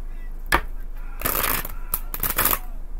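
Tarot cards are slapped and shuffled onto a surface during a reading, a few close papery bursts and flicks separated by short quiet gaps.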